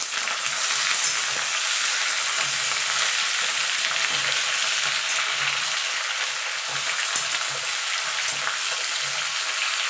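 Ridge gourd, eggplant, pumpkin and pointed gourd fry in a pan with potatoes, giving a loud, continuous close sizzle with soft stirring scrapes throughout and no talking.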